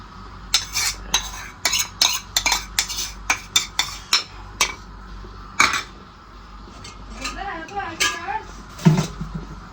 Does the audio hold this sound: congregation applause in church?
no